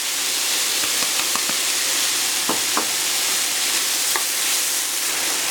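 Onions frying in a pan, added after chicken has browned for a potato and chicken gratin: a steady, close sizzle runs throughout, with a few sharp clicks and scrapes of stirring.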